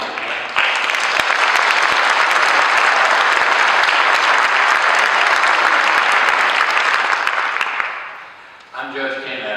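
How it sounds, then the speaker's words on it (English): A church audience breaks into loud, sustained clapping after a choir performance at an interfaith gathering. The applause holds steady for several seconds before fading, and a voice begins speaking at the end. "Let's give him a hand."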